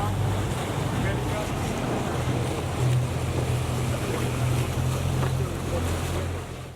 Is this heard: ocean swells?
yes